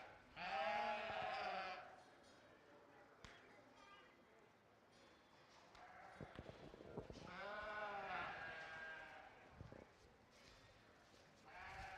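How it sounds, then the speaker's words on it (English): Sheep bleat at a county livestock show: several drawn-out, wavering bleats, one loud and close near the start and others toward the middle, over a low murmur of crowd and scattered hoof clatter. "we've got some really nice sheep out here to look at"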